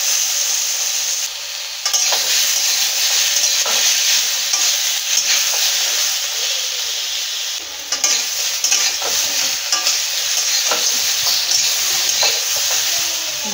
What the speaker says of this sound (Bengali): হালকা করে ভেজে নেব। একটা টমেটো দিয়েছি।